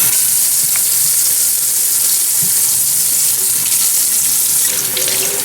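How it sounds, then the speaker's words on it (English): Tap water pours steadily into a sink during handwashing before cooking, a loud continuous hiss with faint splashes and no talking. "First step is to wash your hands."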